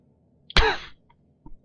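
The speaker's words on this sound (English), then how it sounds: "Oh yeah, I got a horrible cough." A single harsh, loud cough from a character in Garry's Mod, heard close and alone, followed by a faint short click and a soft low thump.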